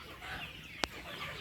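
Chickens cluck softly in a limed poultry shed housing Sonali-breed hens. The faint, low murmur of clucking is broken by one sharp click partway through.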